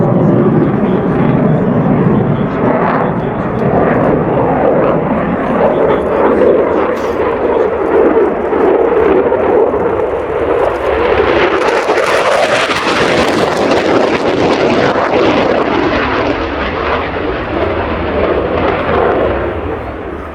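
A Royal Air Force Eurofighter Typhoon FGR.4 makes a high-speed pass in an air show demonstration, a loud, continuous jet roar that swells, sweeps past with a sharp pitch change, and then fades slightly as it departs.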